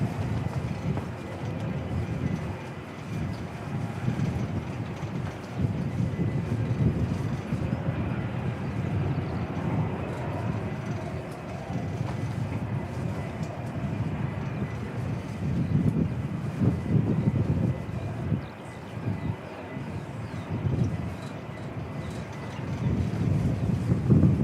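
Steady gusting wind buffets the microphone at Christchurch Airport in New Zealand on a wet day, a continuous loud low rumble with swelling and easing gusts throughout and no talk.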